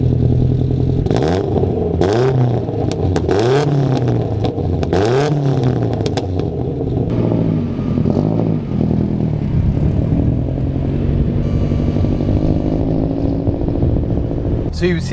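A Vauxhall Cavalier SRi fitted with a Saab turbo engine drives, its engine rising and falling through repeated revs, loud and close, with people talking inside over the noise.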